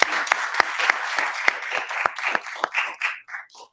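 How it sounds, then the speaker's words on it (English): A delayed round of applause for a committee at a government plenary conference: scattered hands clap in an uneven rhythm, loud at first, then thinning out and fading toward the end. "So a delayed round of applause."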